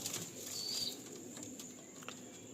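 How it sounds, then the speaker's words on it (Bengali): A female Andhra Kalanka pigeon in light moult is released and takes off with a brief flurry of flapping wings, faint and close, against a quiet background with soft bird sounds. "আন্ধ্রা কালাঙ্কা পায়রা ছেড়ে দেখাচ্ছি, এটা মাদি"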